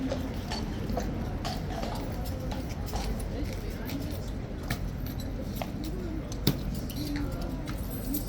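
A large horse's hooves clip-clop irregularly on a hard surface amid a busy outdoor background with birds calling, while people talk nearby; another horse gallops off behind.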